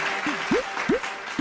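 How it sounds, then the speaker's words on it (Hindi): A comedy show audience claps in a short, steady burst of applause at a parody performance, with a few rising, whoop-like tones cutting through. "तालियां तालियां"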